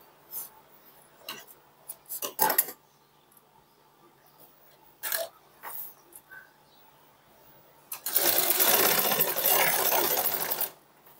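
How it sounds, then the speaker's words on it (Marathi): A sewing machine stitches along a double-folded dupatta edge. Scattered light clicks and handling taps come first, then one steady, fairly loud run of rapid stitching lasting about three seconds. "इथे बघा अशा प्रकारे पूर्ण याला आपल्याला एक शिलाई मारून घ्यायची आहे"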